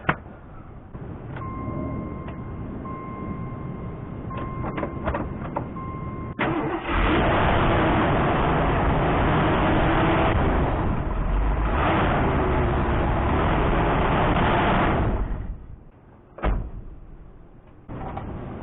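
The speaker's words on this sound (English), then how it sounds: "Time to start her up." A 1987 Jeep J-20 with a carbureted engine converted to manual choke cranks over and catches at about six seconds, then runs at a steady, loud idle for roughly nine seconds before cutting off, followed by a few brief knocks.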